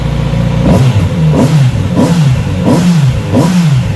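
A 2020 Kawasaki Z900RS retro motorcycle engine revs repeatedly, about five sharp throttle blips rising and falling in a steady rhythm over a running idle, loud and close with no talking.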